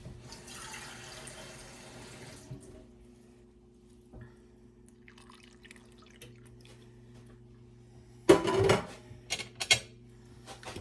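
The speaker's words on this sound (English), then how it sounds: "I'm going to add a cup of water to this" Water splashes and trickles into a bowl in a short burst, a cup of water for beef tips, followed by a few scattered drips and clinks in a quiet room.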